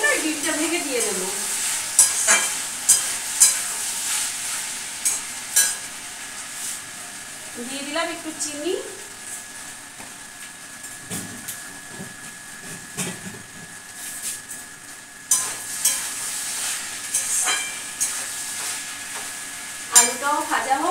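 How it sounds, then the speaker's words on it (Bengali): Potatoes and onions fry in a pan with a steady sizzle, broken by repeated scraping stirs and occasional utensil clinks; someone talks over it at intervals. "এই আলু পেঁয়াজটা ভাজা ভাজা হয়ে গেলে ডিমটা ভেঙে দিয়ে দেবো।"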